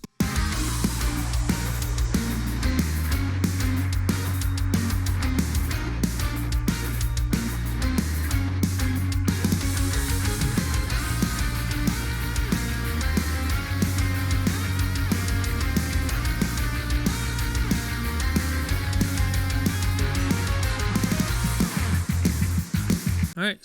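First verse of a Fall Guys song, a dense, bouncy full mix with very staccato parts held together by a sustained pad over a pulsing bass line, loud and continuous.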